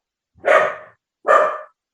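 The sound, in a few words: dog barking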